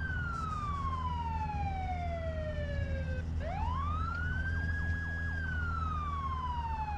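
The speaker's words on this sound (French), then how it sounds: "t'auras la deuxième sirène du véhicule" Police car siren from a gendarmerie vehicle in a video game, a loud continuous wail sweeping slowly down, then a rising yelp-like sweep that holds high, steady over a constant engine-like hum, with no talking.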